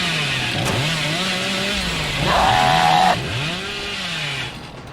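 A chainsaw revs in the video game Dead by Daylight, its motor whining and rising in pitch in repeated surges, with one sharper high burst near the middle before it settles and fades at the end.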